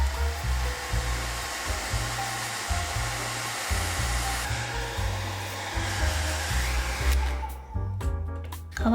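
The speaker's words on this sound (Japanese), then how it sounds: "こんな感じに溶かせたらドライヤーで乾かします。" A hair dryer blows steadily at close range to dry a watercolor pencil painting, a continuous loud whooshing roar that wavers slightly as it is moved, cutting out near the end.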